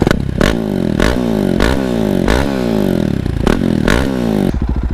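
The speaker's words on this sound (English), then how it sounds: "I can stop someplace here and rev the shit off the bike for you guys" A 2017 KTM 690 Duke R A2 single-cylinder with a Leo Vinci exhaust is revved hard, close and loud, about six sharp throttle blips rising and falling in quick succession before settling to a lumpy idle.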